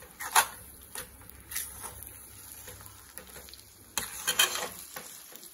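Bombay halwa with roasted cashews being stirred in a pan, a soft scraping and sizzling texture with a few sharper spoon clinks near the start and again toward the end, close and fairly quiet, with no talking.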